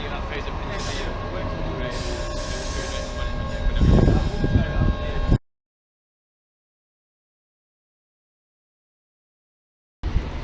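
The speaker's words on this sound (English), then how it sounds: "And as luck would have it, here's yet another tram-train vehicle on test." A Sheffield Supertram tram-train on test rolls past, a broad rumbling rail roar with squealing tones swelling around the midpoint, then cut to silence before a brief return; a voice may talk over it.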